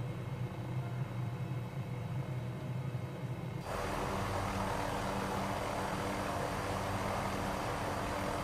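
A Gee Bee propeller plane in a flight video game takes off, its steady engine drone jumping abruptly into a louder, broad roar midway as throttle opens, with no talking.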